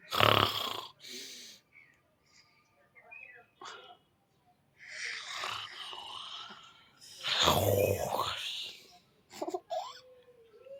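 A voice imitating snoring: several rasping, snore-like breaths close to the mic, separated by pauses, with a playful, breathy character.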